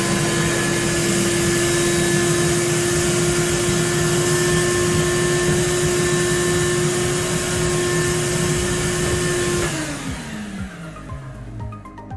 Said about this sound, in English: now we're going to turn that vacuum on